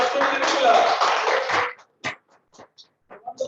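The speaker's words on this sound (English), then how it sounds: "Please give a big round of applause for our contest master" Toastmasters club audience applauding the contest master at a mock speech contest: a dense burst of clapping for under two seconds, then it stops and a voice speaks.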